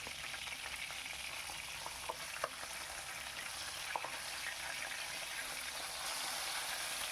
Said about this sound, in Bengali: দুটো দিক ভালো করে একটু ভেজে নিচ্ছি